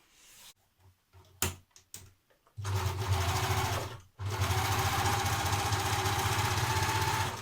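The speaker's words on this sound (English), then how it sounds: "So you can either overlock or zigzag stitch. I'm going to overlock mine." An overlocker finishes the edges of a skirt piece, a few short stops and starts giving way to two sustained, fast, buzzing runs with a brief pause between them, close and loud.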